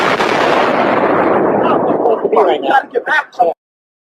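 A dense roar of loud blasts and rumbling booms, followed by a few sharper bursts before cutting off abruptly.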